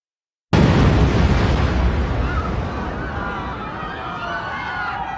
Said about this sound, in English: 12 minutes later, the bomb went off.